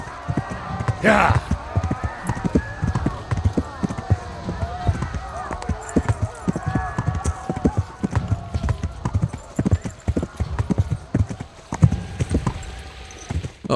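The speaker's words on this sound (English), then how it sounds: "Run! Stupid horse," Hooves clip-clop rapidly as a horse gallops in Kingdom Come: Deliverance, a steady driving beat with a brief whinny near the start, while a player shouts over it now and then.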